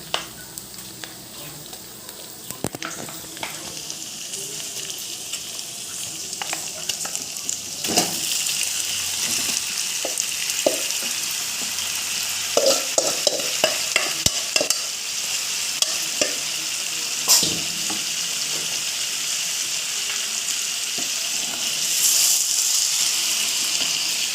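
Caramelized local chicken meat sizzles and fries in a pan while being stirred, with steady frying hiss and scattered scraping clicks of the spatula against the pan throughout.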